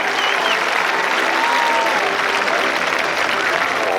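A large crowd claps steadily and loudly at an outdoor equestrian rodeo show in Saint-Agrève, with sustained dense applause and a voice briefly heard above it.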